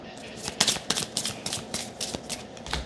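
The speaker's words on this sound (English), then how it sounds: "I'm going to go ahead and finish this shuffle" Tarot cards being riffle-shuffled in quick bursts of crisp flutters and taps, close and fairly quiet.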